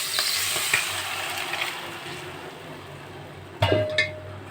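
Dal poured into a sizzling ginger-cumin tempering and stirred: a steady hiss of frying for several seconds, then a sharp splash-like clatter near the end as the lentils hit the hot pan, with a brief metallic clink.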